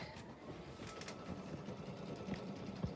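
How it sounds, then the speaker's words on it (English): Embroidery machine stitching the last letter of a design at a desk, a faint, steady mechanical whirring with light ticking close by, no speech. "Can you see it stitching away? It's almost finished now, it's just onto the last letter"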